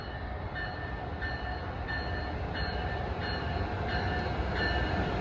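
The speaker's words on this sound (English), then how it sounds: "approaching at 432 is Amtrak Acela Express 2173 en route from Boston to Philadelphia" An Amtrak Acela Express bound from Boston to Philadelphia nears a station, its steady heavy rumble filling the platform while a pulsing electronic tone repeats at an even rhythm above it.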